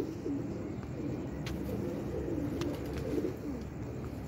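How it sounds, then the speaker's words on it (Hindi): A Teddy pigeon cooing close by in soft, low, rolling phrases repeated over a steady background hum, with a few faint sharp chirps mixed in. "ये है जी कबूतर"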